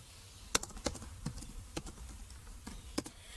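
Sparse keystrokes on a computer keyboard as a product name is typed into a website search, seven or so separate taps spread out unevenly, fairly faint and close, with no talk.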